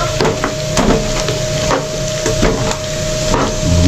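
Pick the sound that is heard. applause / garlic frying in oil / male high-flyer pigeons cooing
garlic frying in oil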